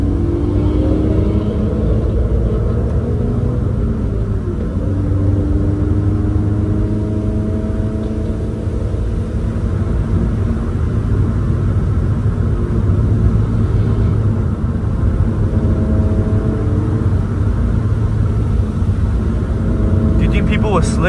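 Toyota GR86 engine in a racing video game, a steady loud low rumble held at moderate revs throughout, with a person talking over it.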